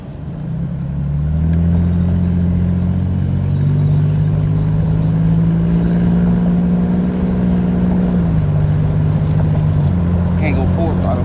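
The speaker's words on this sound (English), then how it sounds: "And I'm gonna let you guys hear what it sounds like" A 1999-2004 Ford Mustang engine idles up and rises into a sustained rev, its loud steady drone holding for several seconds before easing down, close and continuous, with a voice briefly heard over it.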